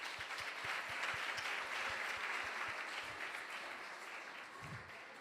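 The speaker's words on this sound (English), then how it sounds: "Let's give a round of applause for the children" An audience at a Sunday feast gathering claps steadily throughout, a full, even round of applause with a faint low thumping underneath and no talking.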